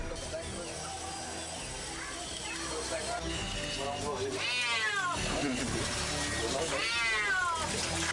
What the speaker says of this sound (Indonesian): petugas pemadam kebakaran Kabupaten Klaten Kamis siang berupaya menyelamatkan seekor kucing yang jatuh ke dalam sumur